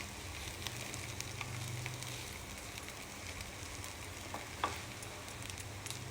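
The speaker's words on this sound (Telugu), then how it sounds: "సరే మంచిగా మిక్స్ చేయాలి అన్నీ కలిసేట్టుగా చూడండి" Puffed-rice upma is stirred in a pan, a soft continuous sizzle with faint scraping and an occasional light knock, quiet and close, with no voices.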